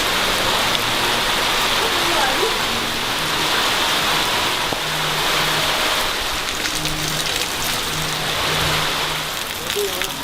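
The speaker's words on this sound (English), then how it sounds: "It just started raining." Rain starting to fall during a street food tour in Mexico City, a dense steady hiss of drops covering the whole stretch, loud and close, with faint traffic and voices underneath.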